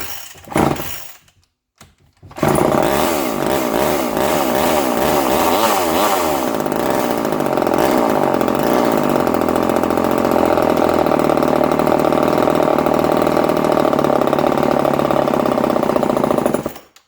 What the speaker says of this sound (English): I think this thing will run like a champ.